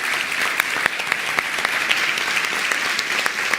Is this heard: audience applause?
yes